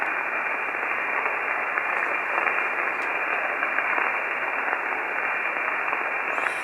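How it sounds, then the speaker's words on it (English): Faint amateur radio voice signal buried in steady hiss of band noise, with the voice too weak to pick out and the static dominating throughout. "I can tell you're talking, but I can't understand what you're saying. You're right in the noise level."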